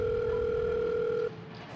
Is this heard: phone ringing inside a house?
yes